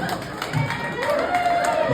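Comedy club audience at The Comedy Zone reacting to a stand-up joke with a burst of cheering and clapping that swells and fades, a crowd murmur continuing under the performer's voice.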